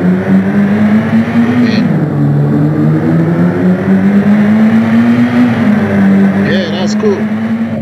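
Engine drone from cars driving through an urban area in a Unity-built driving game, a steady tonal hum that rises and dips slightly in pitch, continuous throughout with brief talk over it.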